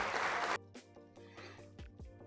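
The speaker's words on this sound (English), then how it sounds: "That deserves a clap." Soundboard applause effect bursts in loudly for about half a second and cuts off abruptly, followed by a quiet stretch with faint voices.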